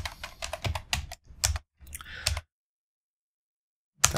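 Computer keyboard typing, a dense run of quick close keystroke clicks for about two seconds, then silence, then a single click near the end.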